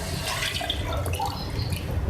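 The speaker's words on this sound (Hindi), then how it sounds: "अब मैं इसमें गोश्त को गलने के लिए पानी डालूंगी।" Water pours into a pot of beef and spices for a bhindi gosht (beef with okra) curry, a soft, continuous splashing heard up close and alone.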